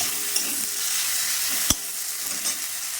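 New potatoes and peas frying in a pan with chopped tomato, giving a steady, close sizzle throughout while a spoon scrapes and stirs, with one sharp clack of utensil on pan partway through.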